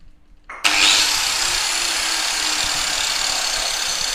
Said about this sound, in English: the grinder struggles to kick on